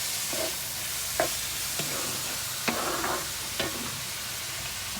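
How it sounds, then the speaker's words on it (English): Onions sautéing in a pan for dirty rice, a steady faint sizzle with a few soft stirring scrapes and clicks spread through, no one talking. "I'm going to saute these onions"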